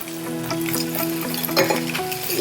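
Onions frying in a tempering of hot oil, a steady close sizzle with a faint stirring scrape, under a musical background and with no talk.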